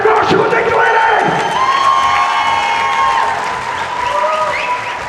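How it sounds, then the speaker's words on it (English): A fight-night crowd applauds and cheers for the boxers Fred Marshall and Nick Delaney at a white-collar event in Dubai, with loud sustained clapping mixed with whoops and shouts throughout. "One more time, round of applause for your fighters"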